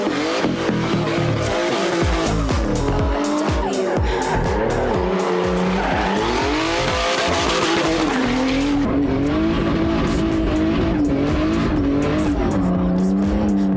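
A BMW E36 race car drives hard, its engine droning loud and close with rising and falling revs while the tires squeal and skid almost continuously.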